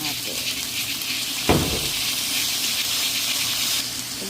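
Tomatoes drop into pork frying in a pan, giving a steady loud sizzle with a sharp splash-like burst partway through, then continuing hiss, with a voice speaking over it.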